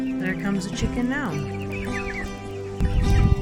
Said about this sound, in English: There comes a chicken now.